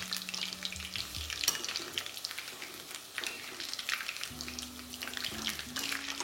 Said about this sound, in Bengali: এবারই একই পদ্ধতিতে আমি বাকিগুলোও ফ্রাই করে নিচ্ছি